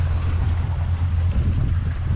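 Sailboat under sail with no engine running, crossing from St. John toward St. Thomas in the US Virgin Islands; steady wind noise with low rumbling water and wash against the hull, continuous and fairly loud throughout.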